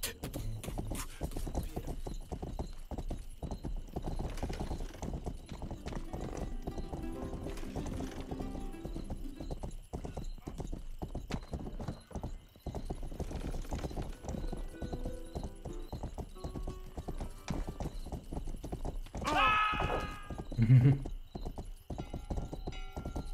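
Steady clip-clop of horse hooves in the medieval video game Rustler, continuous and rhythmic over a busy game soundscape, with a short whinny near the end.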